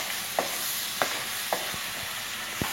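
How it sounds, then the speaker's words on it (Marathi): Ground masala paste frying in oil and being stirred in a pan, a steady close sizzle with a few sharp scraping taps from the spoon at regular intervals. "मसाला छान हलवायचा आहे"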